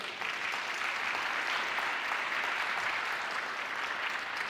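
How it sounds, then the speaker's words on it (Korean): Audience applause fills a concert hall as a student chamber ensemble walks on stage, a steady, even wash of many hands clapping at moderate distance. "관객들의 박수 속에서 등장한 위드 챔버 앙상블"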